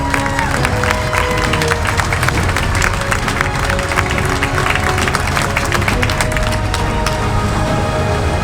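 Loud, dense applause and clapping from a large crowd at an outdoor community freedom rally in Sheboygan, with scattered cheers mixed in, holding steady and unbroken throughout.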